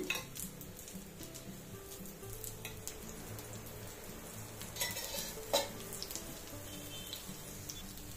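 Vegetable pudla cooking in ghee in a covered pan, with a soft continuous sizzle, occasional utensil clinks and a sharper clatter near the end.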